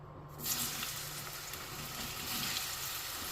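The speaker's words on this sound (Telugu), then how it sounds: "సో నూనె మరగంగానే ఫస్ట్ మనం ఈ అరటికాయ ముక్కలు ఇందులో మూకుడులో వేసుకుందాం." Plantain pieces drop into hot oil in a pan and fry with a continuous, even sizzle that starts abruptly and holds steady, moderately close and fairly quiet.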